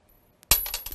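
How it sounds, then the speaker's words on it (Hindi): Coins tossed for a heredity probability demonstration land with a sudden bright metallic clink, followed by a brief scatter of lighter rattling taps, close and clear against silence. "अब ये आखिरी बार हम 500 बार इन सिक्कों को उछाल रहे हैं।"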